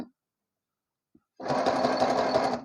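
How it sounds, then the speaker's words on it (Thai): A sewing machine zigzag stitches along a raw fabric edge as a substitute for an overlock machine, starting after a silent pause and running as one steady, close, loud burst of just over a second. "การเย็บ ซิกแซก แบบนี้เราจะใช้ทดแทนการเย็บโค้ง"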